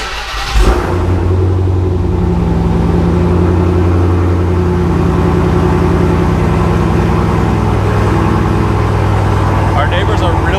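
A Dodge Hellcat with its muffler deleted cranks and fires with a sudden loud burst, then settles into a deep, heavy, rumbling idle up close that lasts the rest of the clip, with people talking faintly beneath it.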